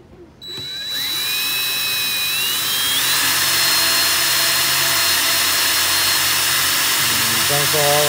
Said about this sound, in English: so we will drill the hole.